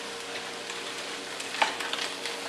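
Food for a crowd, something like shish kebab, frying in a big pot with a steady close sizzle and a few scraping stirs and clinks near the end.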